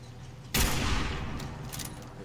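Automated turret opens fire in Fallout 4, a sudden loud burst of gunfire kicking in about half a second in and continuing as sustained, slightly fading rapid shots.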